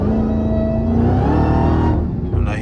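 A Dodge Hellcat with its Redeye intake missing revs hard as the throttle opens, a loud close rising engine whine and roar that climbs steadily, then drops off abruptly near the end.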